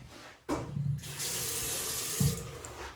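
A bathroom sink tap is turned on after a short knock, and water runs steadily and close by, splashing into the basin with a brief louder clunk near the end.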